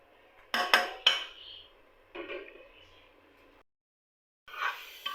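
A spoon scrapes and clanks against a pot while grated carrot halwa with chopped coconut is stir-fried, in a few sharp metallic knocks and short scraping bursts separated by quiet gaps.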